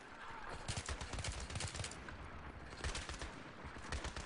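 Rapid bursts of automatic gunfire and machine-gun fire in the Battlefield 3 combat mission Rock and a Hard Place, dense crackling volleys that come in waves, fairly quiet overall, with no speech.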